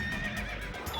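A horse whinnies from the video game The Misadventures of Tron Bonne, a short, bright, wavering neigh filling the whole moment, close and clear with game sounds beneath.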